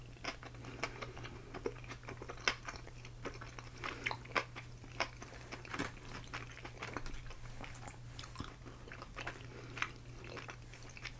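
Soft chewing and crunchy bites of sushi eaten close to the microphone, a steady run of small moist crunches and bites over a low constant hum, with no talking.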